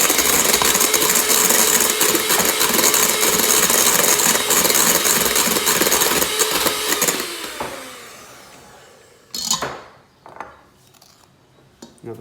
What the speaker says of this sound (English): So, scatter 1 spoon in, turn up the speed a bit, whisk that in.